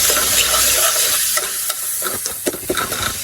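Pointed gourd and small fried potatoes cooking with chopped onion and garlic in a pan, a loud close sizzle and frying hiss with several sharp stirring scrapes and knocks toward the end, with no speech.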